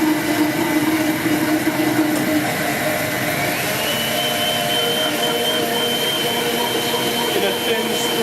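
A food processor blends chicken liver pâté while warm butter is poured in, giving a loud, steady motor whir that runs unbroken from start to finish.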